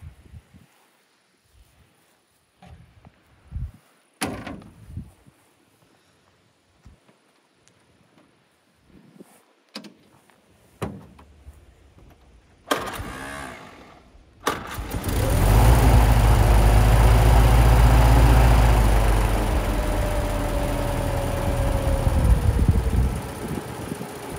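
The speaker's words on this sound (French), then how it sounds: "je vais vous la démarrer, que vous puissiez entendre un petit peu son petit moteur Hotchkiss" Scattered knocks and handling noises come first, then the small old Hotchkiss engine of a 6-volt Willys Jeep cranks, catches and runs on in a steady, close idle until the end.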